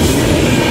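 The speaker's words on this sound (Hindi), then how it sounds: "नई दिल्ली से चलकर अलीगढ़ कानपुर के रास्ते गया को जाने वाली महाबोधि एक्सप्रेस अलीगढ़ जंक्शन पहुंचते हुए" The Mahabodhi Express, New Delhi to Gaya via Kanpur, arriving at Aligarh Junction at high speed, a brief blast of loud, dense rumble and wheel roar.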